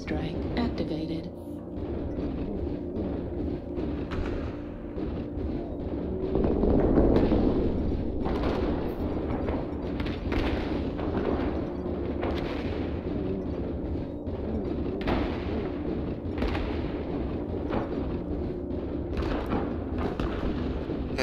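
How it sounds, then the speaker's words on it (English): Airstrike explosions in the mech combat game MechWarrior Online: heavy booming blasts and rumbling artillery-like fire roll on continuously for about twenty seconds, loud and dense, swelling near the middle. "Airstrike online. Airstrike activated."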